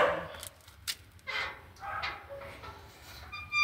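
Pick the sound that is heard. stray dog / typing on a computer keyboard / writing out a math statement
stray dog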